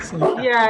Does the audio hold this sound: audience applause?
no